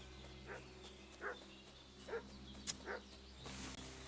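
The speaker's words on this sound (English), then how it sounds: "What's that dog making such a fuss about?" Dog in a medieval video game barking repeatedly, four evenly spaced barks at a moderate distance over a steady low background hum, with a sharp click midway.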